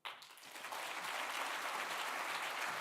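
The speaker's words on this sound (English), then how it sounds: "I think you would agree that deserves another round of applause" An audience at a Hong Kong conference breaks into sustained applause after a speech, a steady wash of many hands clapping that swells quickly and holds at an even level.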